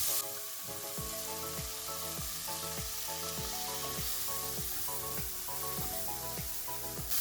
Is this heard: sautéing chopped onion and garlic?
yes